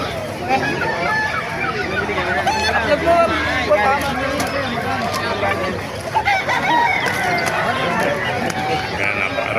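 Many chickens and roosters at a busy Bocaue, Bulacan market, with crowing and clucking repeating through dense crowd chatter and people talking nearby.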